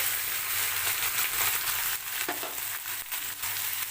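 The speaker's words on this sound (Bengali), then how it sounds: "পেঁয়াজ আর ঢেঁড়সটাকে আমি ছাকা তেলে একটু ভেজে নেব" Onion and okra sizzle steadily in hot oil with salt, turmeric and chilli powder, a close, continuous crackling fry with a few faint stirring knocks and no talk.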